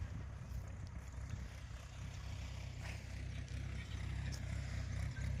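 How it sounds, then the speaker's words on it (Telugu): A tractor drives across a field while pigeon pea seeds are sown, a low, steady engine rumble running the full length with wind noise over it and no talk. "ఆ ట్రాక్టర్ పోతుంది ఆడ"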